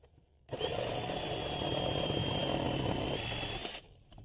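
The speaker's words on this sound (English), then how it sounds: "take the reciprocating saw and make a cut right there on the 2x4, next to the slat" A reciprocating saw cuts through a 2x4 beside a fence slat outdoors, starting abruptly and holding a loud, steady buzzing whine for about three seconds before stopping, with no talking over it.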